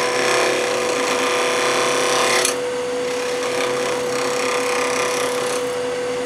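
A round cutter on a half-inch bar scrapes acrylic on a lathe, giving a continuous, loud, even tonal whine with a slight shift in pitch partway through, no voices.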